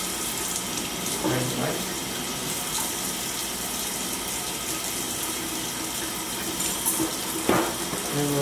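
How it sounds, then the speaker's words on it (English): Tap water runs steadily into a sink during handwashing in a home kitchen after mincing jalapeno, a continuous close splashing hiss, with a brief spoken remark over it. "I'm gonna wash my hands."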